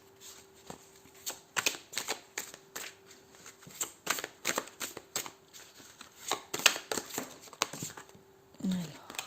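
Tarot cards being shuffled close up in a quick, repeated rhythm of riffling flicks and taps, moderately loud and steady for several seconds, ending with a brief soft thud.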